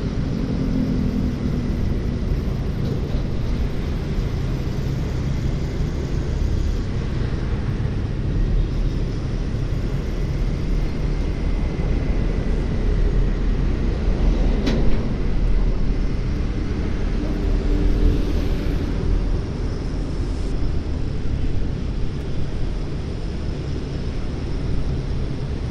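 Trucks crawling along the old Malang–Pandaan road, heard as a steady low engine rumble and road noise that persists throughout, fairly close, with faint talk underneath.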